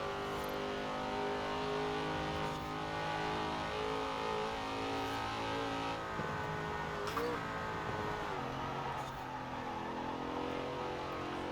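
Vintage American muscle car engine in Forza Horizon 4, racing at high speed, a loud continuous roar that revs and shifts pitch through crests and corners with no talk.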